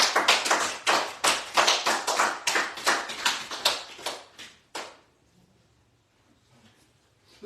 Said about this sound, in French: Nous applaudissons le roi des rois.